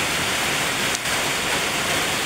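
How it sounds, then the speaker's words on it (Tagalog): Heavy rain pours steadily, a dense, loud, unbroken hiss with one brief dip partway through and no voices. "grabe ka kusog yung ulan diri ay."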